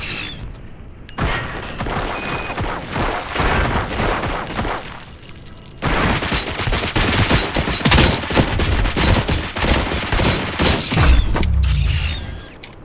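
Gunfire from the video game RoboCop: Rogue City comes as a dense, loud fusillade of rapid shots and booms. It pauses briefly, then resumes with heavy automatic fire and crashing impacts.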